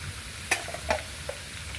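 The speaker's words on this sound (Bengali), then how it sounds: "ভালো করে একটু ভেজে নেব আমি এর মধ্যে দিয়ে দেবো আদা জিরা কাঁচা লঙ্কা বাটা" Ginger, cumin and green chilli paste fries in oil while being stirred, a soft sizzle broken by a few short spoon scrapes and taps.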